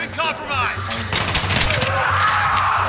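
Gunfire in a video game, heard as a burst of sharp, loud shots clustered in the middle of the clip, with a person talking over the action throughout.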